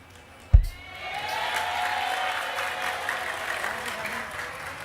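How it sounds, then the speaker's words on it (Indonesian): Audience applause at an Indonesian talk gathering with a speaker, a sharp thud at the start giving way to a steady wash of clapping that holds fairly even to the end. "Tepuk tangan saya lagi."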